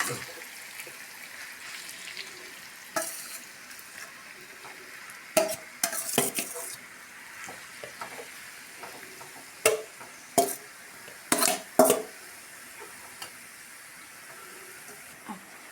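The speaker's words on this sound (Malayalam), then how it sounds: "അപ്പോൾ നമ്മൾ ബീറ്റ്റൂട്ടിൽ ഇച്ചിരി എണ്ണ ഒഴിച്ചിട്ട് ഇതിനെ നമുക്കൊന്ന് വഴറ്റിയെടുക്കാം കേട്ടോ" Beetroot being sautéed and stirred in hot oil for beetroot pickle, a soft background sizzle punctuated by intermittent loud scraping and clanking stirs of a utensil against the pan, close up, with no speech.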